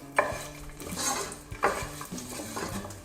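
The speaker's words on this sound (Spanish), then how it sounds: "En una olla bien caliente vamos a agregarle un chorrito de aceite y le agregamos unos 3 dientes de ajo." Three garlic cloves dropped into a splash of oil in a very hot pot, giving a soft sizzle with scraping stirs and a couple of sharp metallic knocks against the pot.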